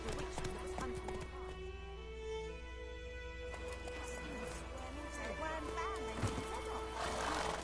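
A horse in The Witcher 3 video game whinnies with rising, wavering calls over steady clip-clopping hooves, with game voices and music murmuring beneath throughout.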